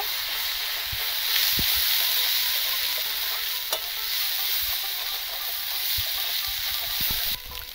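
Ground cumin, chili and coriander frying in a pan for rohu fish curry, stirred so a steady close sizzle carries scattered spoon knocks and scrapes against the metal, fairly loud and continuous.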